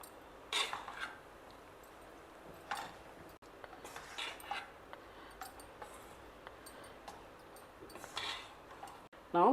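Spoon stirring cooked rice with a ghee-and-jaggery mixture in a bowl for a festival prasadam, giving soft scattered clinks and scrapes at a moderate distance, with occasional louder taps against the bowl.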